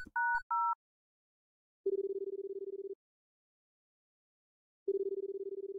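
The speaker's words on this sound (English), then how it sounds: "Alright, a landline phone." A landline phone is dialed in the Paper Lily video game: a few quick keypad tones, then two long ringback tones separated by silence, clear and close.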